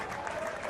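Applause from a crowd at a schools rugby match between Rondebosch and Bishops, a steady wash of clapping heard from a distance under a commentator's voice.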